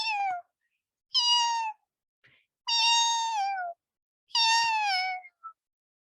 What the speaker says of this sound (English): the kitten had abandoned his breakfast to mew plaintively to be picked up.